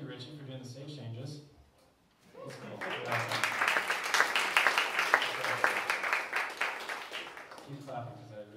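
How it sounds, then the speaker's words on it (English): Warm applause from a concert audience awaiting a mandolin and strings performance swells after a voice speaks, builds into dense clapping, then tapers as talking returns. "Keep clapping"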